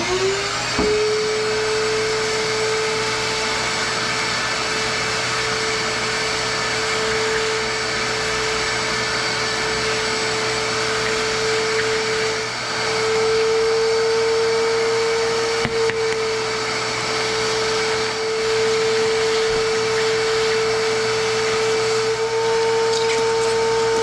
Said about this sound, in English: let's get the vacuum.